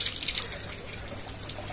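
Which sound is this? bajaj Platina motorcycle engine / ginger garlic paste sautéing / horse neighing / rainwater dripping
rainwater dripping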